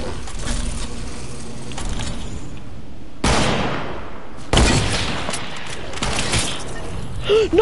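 Gunfire in a first-person shooter video game, several sharp shots and bursts standing out against continuous game sound and noise, with a voice talking over part of it.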